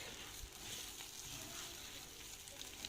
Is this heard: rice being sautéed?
yes